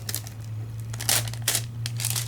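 Crinkly tearing and crackling of a Deco Foil sheet being peeled off a stamped card, heard close up in uneven bursts with a steady low hum underneath.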